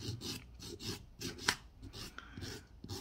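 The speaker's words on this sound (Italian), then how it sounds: "vado per bene ad opacizzare il tutto senza premere perché è molto sottile" An acrygel nail coating being lightly filed to a matte finish on a bitten nail, giving soft repeated rasping strokes in short bursts, close and quiet, with one sharper scrape in the middle.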